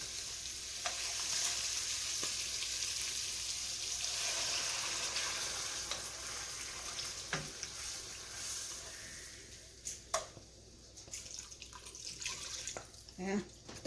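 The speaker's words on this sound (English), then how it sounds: "I'm going to mix the mushroom, and I'm going to put some of the juice in" Mushrooms are stirred in a sizzling pan for shrimp and mushroom marsala, with steady frying hiss, scraping of a utensil and occasional clinks, while a person talks over the cooking.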